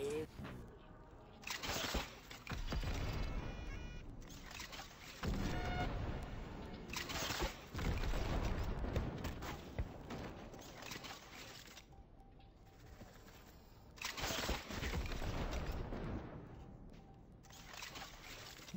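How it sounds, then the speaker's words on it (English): Projectile launcher arm firing charged rare and legendary shots in a video game, with repeated loud blasts and explosions in bursts over an ongoing game soundscape, with a few brief quiet gaps. "The charge shot works for both the rare and the legendary projectile arm launcher for the stun."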